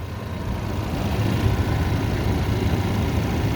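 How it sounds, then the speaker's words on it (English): The EcoBoost engine of a 2019 Ford Ranger Lariat FX4 idles with a smooth, even low hum, close and steady for a few seconds with no voices. "That EcoBoost engine is sounding smooth"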